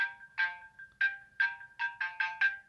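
The iOS 6 Xylophone ringtone plays on an iPod Touch 2G, a bright, quick repeating pattern of plinking notes, clear and close, with no voices.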